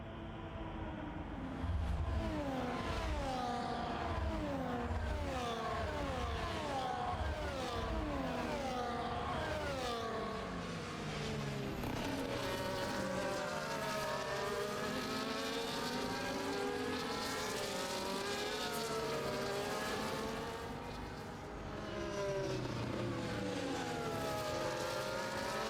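Multiple race car engines in a sim race on the Azerbaijan circuit, a video game, whining and shifting pitch continuously as several cars run close together, loud and steady throughout with overlapping rising and falling tones.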